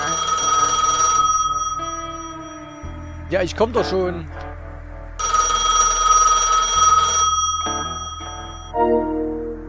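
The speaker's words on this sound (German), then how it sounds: "Telefon." Telephone ringing in the Tankstellen Simulator video game, bursts of a bright electronic ring repeating with pauses, while someone speaks over it between rings.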